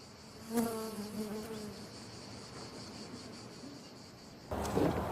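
Honeybees buzz around beehives opened by beekeepers on a spring day, a steady droning hum that swells briefly at the start and stays fairly faint, then gives way to a louder rustling burst at the end.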